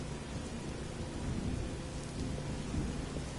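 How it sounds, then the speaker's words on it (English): A thunderstorm at sea in Fishing: North Atlantic at sunset: heavy rain hisses steadily, with a deep, rolling thunder rumble underneath. "And I can hear a storm again."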